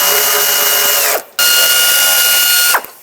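A power ratchet or impact tool spinning out 10mm bolts from the radiator brackets of a 2006-2011 Chevy HHR, two steady loud whirring runs each winding down with a falling pitch, up close.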